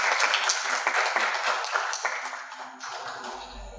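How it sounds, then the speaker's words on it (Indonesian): Applause from an audience at a welcoming assembly, dense and fairly loud for most of the stretch, then thinning toward the end. "Tepuk tangan untuk saudara-saudara."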